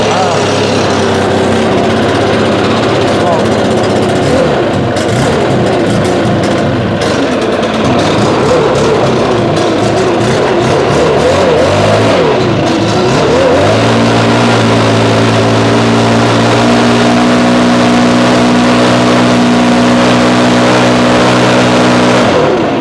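A small gas engine on lawn care equipment, started after five months without fuel stabilizer, runs loud and close with a rough, uneven drone that settles into a steadier, higher idle partway through.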